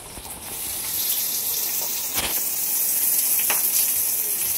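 Sliced onions fry in hot oil with a continuous bright sizzle, close and moderately loud, rising slightly after the first second with a couple of sharp spits and no talking.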